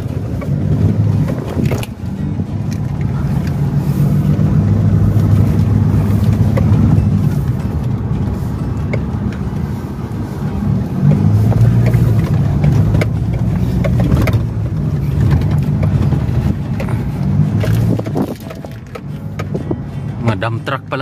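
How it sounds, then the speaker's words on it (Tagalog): Dump trucks pass along a road near a forest in Talaingod, Mindanao, a loud, swelling engine rumble that rises and falls in waves, with people talking over it. "Mga dump truck pa lang dumadaan dito."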